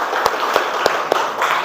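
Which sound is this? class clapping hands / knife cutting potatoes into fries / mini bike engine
class clapping hands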